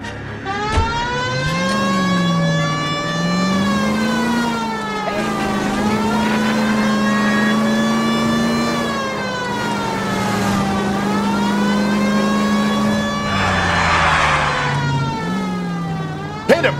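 A car from L.A. Noire drives with its police siren wailing up and down continuously, loud and close, over a steady engine hum.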